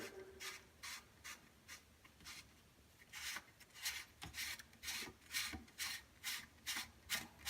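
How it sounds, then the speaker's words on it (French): A sink drain nut being unscrewed by hand, heard as faint, close scraping rubs that come in a loose rhythm and speed up and grow a little louder toward the end. "tu vas démonter l'écrou de la vidange"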